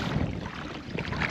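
Steady wind buffets the microphone with a low, rushing roar over open water while fishing at sea, with no voices.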